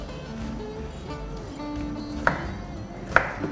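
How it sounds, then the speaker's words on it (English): Two sharp knife chops strike a cutting board as tomatoes are cut, spaced about a second apart, over faint background tones and hum. "I'm just going to start chopping the tomatoes"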